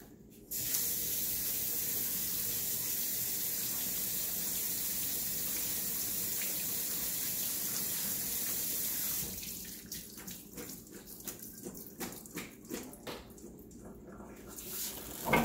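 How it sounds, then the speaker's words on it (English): Kitchen tap running steadily as potatoes are rinsed for a canned beef stew, a loud even hiss of water that then breaks into irregular splashes and clunks as the potatoes are handled under the stream. "Let me rinse my potatoes really quick."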